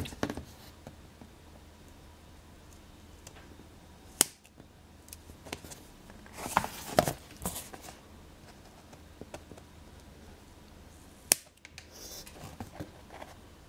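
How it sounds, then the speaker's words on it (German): Scissors snip off the corners of a handmade mini album cover in a quiet room, a few sharp isolated cuts spaced seconds apart with soft paper rustling and handling noises between them. "werden wir hier noch die Ecken abschneiden"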